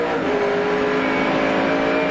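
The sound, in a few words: onboard touring car engine and gear changes, 1996 ATCC race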